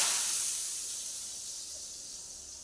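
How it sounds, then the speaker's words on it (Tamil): Hot mustard and curry leaf tempering poured into a meat curry gives a loud, bright sizzle that hisses strongly at first and slowly fades. "நாங்கள் கறி குழம்புக்குள்ளே கருவேப்பிலை கடுகுலாம் போட்டு தாளித்து கொட்டுவோம்"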